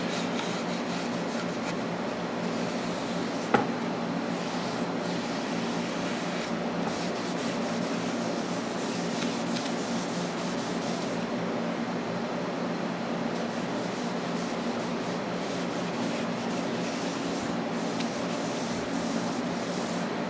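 A rag rubs a coat of wood stain onto pine boards in a steady, close, continuous scrubbing hiss with rhythmic strokes and a single small knock, no voices present.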